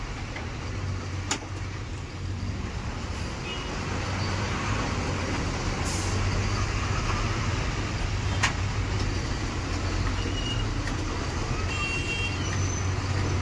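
Slow highway traffic jam near ongoing bridge construction, heard from a truck: a constant low engine rumble and road noise, punctuated by a few short horn toots from nearby vehicles.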